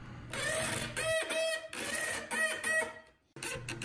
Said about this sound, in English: Every time I cut these, I'm amazed because it always looks like we're shredding the wood.